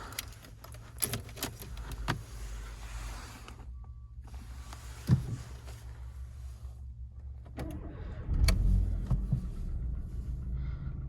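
Keys jangle and clatter inside a Volkswagen Golf, followed by the engine catching quickly with a short burst and settling into a low, quiet idle rumble.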